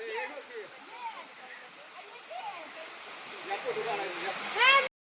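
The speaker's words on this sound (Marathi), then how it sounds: "धबधबा दिसायला लागला" A waterfall gives a steady, faint rushing hiss beneath people talking nearby, with the water noise holding evenly throughout.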